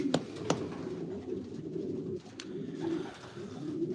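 A flock of racing pigeons keeps up a soft, steady cooing chorus, broken by a few sharp clicks or taps nearby, with the low murmur swelling slightly toward the end.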